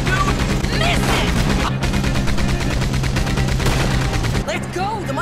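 Dense, continuous gunfire from Red Dead Redemption 2, rapid overlapping shots sustained loudly for several seconds, with game voices shouting over it before a brief drop at the end.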